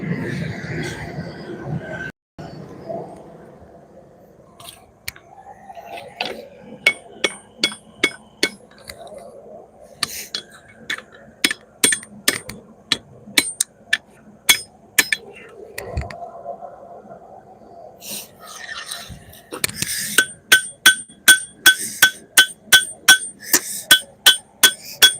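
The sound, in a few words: hammering a sword blade on an anvil while forging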